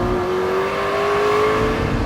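McLaren 650S supercar slowing hard on a track with giant carbon fiber brakes, a steady engine drone with a falling tone and faint tire noise running continuously at close range, no talk.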